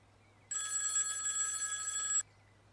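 An electronic telephone ring sounds as one steady trilling burst of about two seconds, loud and alone over a faint low hum, with quiet before and after.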